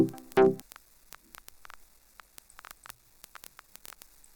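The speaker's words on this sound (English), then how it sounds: "it actually sounds like you're playing an old vinyl record" Ableton Vinyl Distortion effect adding old vinyl record crackle: sparse, quiet clicks and pops scattered irregularly over a faint hiss, following one brief louder tone at the start.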